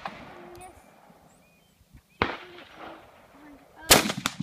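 Two sharp, loud M1 Garand rifle shots crack outdoors about two seconds apart, each followed by a short echoing tail, with quiet background noise in between.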